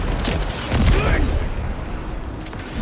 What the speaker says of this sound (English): So we hit the grenade launcher.